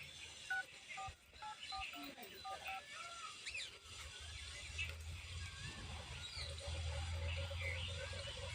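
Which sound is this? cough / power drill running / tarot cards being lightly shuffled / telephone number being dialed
telephone number being dialed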